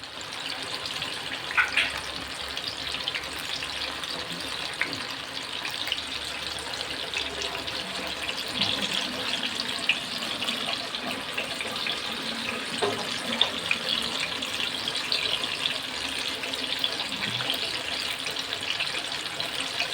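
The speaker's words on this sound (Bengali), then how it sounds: "আর কলা তো মানে তেলে দিয়েছি, জল ছাড়তে তো শুরু করবে" Banana pakoras in arrowroot batter mixed with only water frying in hot oil, giving a steady, dense, hissing sizzle that runs unbroken throughout with no voices.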